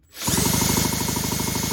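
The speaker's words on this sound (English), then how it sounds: "got the drill ready to go" A cordless drill cranks a Ryobi BP42 backpack leaf blower engine for a spark test, making a loud, close, steady whirring drone with a rapid rhythmic pulse after a quick spin-up.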